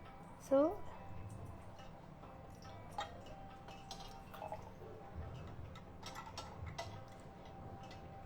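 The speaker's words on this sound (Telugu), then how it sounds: "శివలింగం మీదే వాటర్ కూడా పడుతుంది చూడండి" Water drips and trickles onto a pure silver Shiva linga abhishekam stand in soft, irregular little taps, quiet and close, with a low voice faintly audible underneath.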